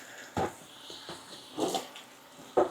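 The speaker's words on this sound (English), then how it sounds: "We'll rinse it with fresh hot water." Hot water rinsing a snake cage fixture from an emerald tree boa and boa constrictor setup, heard as a few short, quiet splashing bursts separated by softer trickling.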